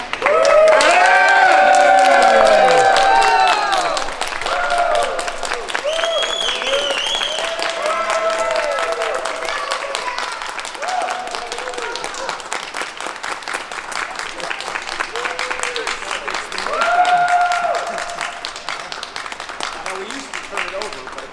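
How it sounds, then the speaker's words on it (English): An election night crowd cheers and applauds as a banner is unfurled. A loud burst of clapping and whoops comes first, then steady applause continues at a slightly lower level with voices mixed in. "Cheer, big cheer. Uproarious."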